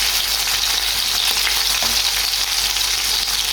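Chicken and pork adobo frying in hot oil, a steady loud sizzle with scattered pops and spatters throughout, no voices.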